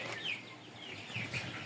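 Young farm chickens, about 55 days old, cluck softly and repeatedly in a poultry shed, a continuous close murmur of hen-like calls with no talking.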